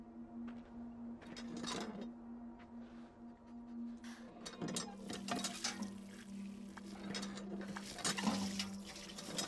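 Splashing and pouring water sounds in short bursts in a video game (Beyond: Two Souls), fairly faint, over a steady low hum with occasional clinks.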